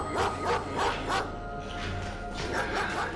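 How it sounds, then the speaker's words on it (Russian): Dogs bark close by in a rapid series of sharp barks, pausing before a few more bursts, loud and alone with no talk over them. "Тут собаки."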